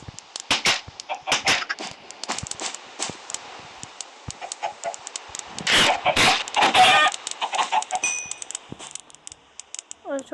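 Short clucks and squawks of Minecraft chickens come in scattered bursts over a quiet background, with a louder flurry in the middle and sparse clicks around them.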